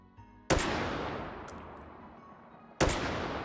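Gunshots in the VR shooting game Hot Dogs, Horseshoes & Hand Grenades: two loud, sharp reports a couple of seconds apart, each followed by a long, fading echoing tail, with no talking.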